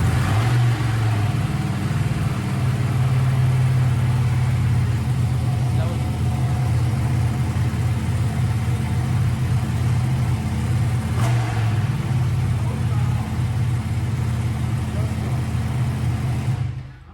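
A loud Ducati Panigale V2 two-cylinder motorcycle engine runs close by with a deep, throbbing idle and occasional revs, steady throughout before cutting off at the end.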